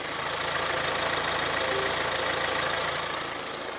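A Kia Sorento 2.0 engine idles, heard up close as a steady, even drone with faint regular low pulsing and no speech.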